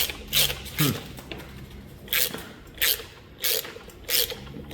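A ratchet with a 1/4 inch 8-point socket threads a Time-Sert thread insert into an engine block, giving close, loud bursts of clicking repeated about six times at a steady rhythm.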